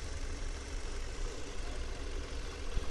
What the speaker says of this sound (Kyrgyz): Мотордун иштегени идеальный.